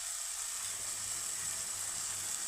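Chopped onion sautéing in oil in a pan for a Kerala prawn theeyal, a steady soft sizzle held at an even level throughout, with no talking.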